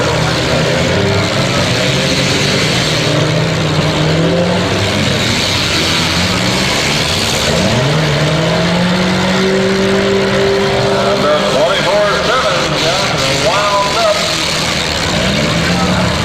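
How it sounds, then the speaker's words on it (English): A front-wheel drive car with a floppy tire runs its engine at a demolition derby, a loud, continuous engine roar with shifting pitch and crowd noise, while an announcer talks over it throughout. "You can look and see that front-wheel drive automobile having some problems right now."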